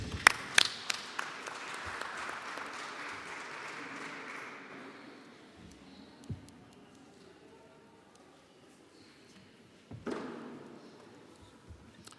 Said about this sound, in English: give the round of applause